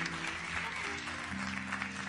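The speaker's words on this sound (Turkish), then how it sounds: "Bir güçlü alkışlar istiyorum." Applause from an audience at a live music birthday show, a steady soft wash of clapping heard at a distance without any talking.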